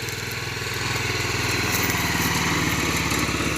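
A small motorcycle engine fitted with a CRF 230 kit, a 2008 Chinese bike, runs steadily at close range, with a continuous buzzing drone and fast even pulses and no voices.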